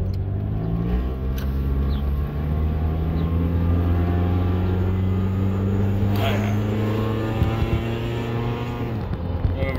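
A Honda CR-V fitted with a custom transmission mount accelerates and rolls over bumps, its engine droning and rising in pitch from inside the cabin, with a few thumps from the road.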